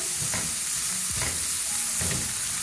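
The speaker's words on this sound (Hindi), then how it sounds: "इसको हल्का सा फ्राई करेंगे तीनों सब्जियों को, ताकि इनका कच्चापन खत्म हो जाए।" Onions frying in a pan with vegetables such as capsicum and carrot, while a vegetable kebab mixture cooks: a steady loud sizzle, broken by three stirring scrapes spaced about a second apart.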